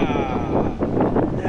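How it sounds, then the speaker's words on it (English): Wind blowing across the sand dunes at Coral Pink Sand Dunes State Park, a steady, loud rushing roar buffeting the microphone, with no clear voices. "Wind. It gets windier where, Preston? Up at the top"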